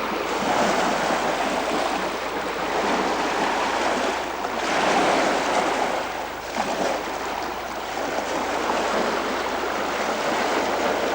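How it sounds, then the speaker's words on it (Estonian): Estonian seashore: a continuous loud wash of surf with waves breaking and receding in slow surges, heavy wind buffeting the microphone throughout, and no voices. "siin on meri jälle"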